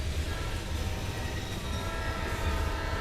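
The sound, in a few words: train approaching in a tunnel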